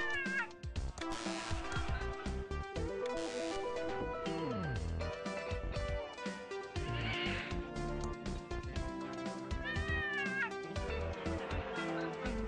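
Cat meows from a TV show in the Thimbleweed Park video game, a dense, loud stretch of repeated meows and caterwauling over a busy musical bed, with tonal cries rising at intervals throughout.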